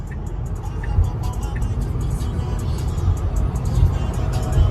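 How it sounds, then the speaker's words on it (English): Street traffic passing by at night in Philadelphia, heard from inside a car as a steady low rumble of engines and tyres with occasional swells as vehicles go past. "There's too much traffic, too much fucking traffic."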